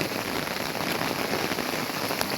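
A downpour falls during Navratri, with constant thick rain drumming on wet, flooded ground, unbroken and steady, with no one speaking.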